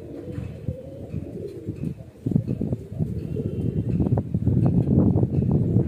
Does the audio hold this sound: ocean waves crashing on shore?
no